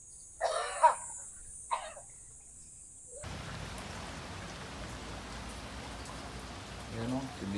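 Steady rain pours down outside near a window during flooding, a continuous close wash that starts abruptly after a few seconds of quiet with brief voices and a cough.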